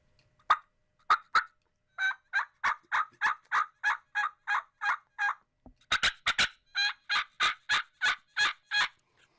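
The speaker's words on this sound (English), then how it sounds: "it really has become a good yelping and cutting call for me" Handheld turkey call played for a run of sharp yelps, then faster clustered cutting notes and more yelps, each note crisp, close and evenly spaced against near silence.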